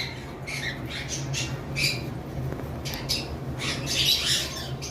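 A cockatiel squawks in several harsh, raspy bursts spread through the clip, over a steady low hum.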